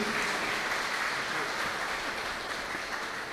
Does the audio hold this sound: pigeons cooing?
no